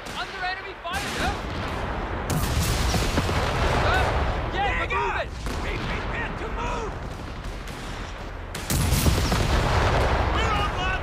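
Rifle and machine-gun fire in a Company of Heroes 3 4v4 battle crackles loudly and continuously, with booming artillery bursts mixed in and soldiers' voices shouting over the fighting.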